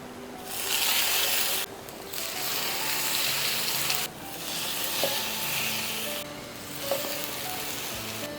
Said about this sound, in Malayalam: എന്നിട്ട് അതേപോലെ തന്നെ നമുക്ക് ഇതിനൊന്ന് ചുട്ടെടുക്കാം